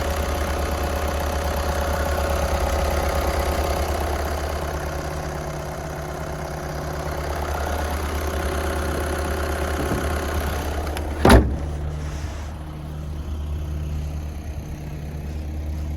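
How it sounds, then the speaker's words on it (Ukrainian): A used car's engine idles steadily and evenly at close range, with a low hum that holds for the whole span and a single sharp click near the end, with no talking. "Робота двигуна."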